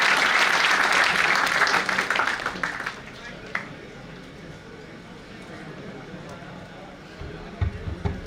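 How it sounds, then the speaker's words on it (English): An audience at a college event in India claps for an honoured guest, a loud, dense burst of applause that tapers off after a few seconds, leaving quieter room sound. "Huge round of applause for Dr. Lakshman Prasad, sir."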